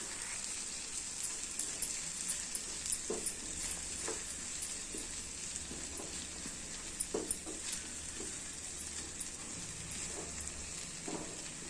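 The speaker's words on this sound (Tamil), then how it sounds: "தேங்காவையும் சேர்த்து நல்லா இதை வதக்கி எடுத்துக்கலாம்." Grated coconut being sautéed in a pan for egg kulambu, a faint, steady crackling sizzle with light intermittent stirring taps, heard close but quiet.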